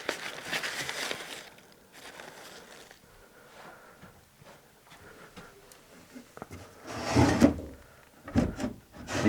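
Old wooden dresser drawers in an abandoned mid-1800s farmhouse, opened and closed with a few dull wooden scrapes and knocks, loudest near the end, over quiet room noise.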